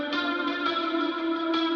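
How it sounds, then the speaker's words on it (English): A sustained sampled tone sounds through reverb and chorus effects, producing a thick, shimmering, wide drone with gentle swells and no talk. "To create ambience from this, all I need is actually a reverb. But for this one, I'm gonna also use a chorus"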